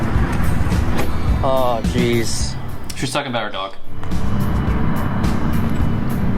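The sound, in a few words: 10th gen Honda Civic Si driving away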